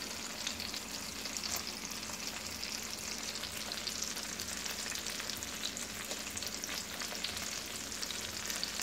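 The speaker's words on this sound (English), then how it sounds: "frying white chicken breasts, alright? In a black pan" White chicken breasts frying in a black pan on a home stove, a steady close sizzle and crackle running without a break, with faint stirring noises and no talk.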